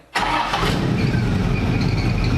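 A NASCAR race car engine firing up after an ignition coil swap: a brief crank then an immediate catch into a loud, steady, rough idle, close by and alone.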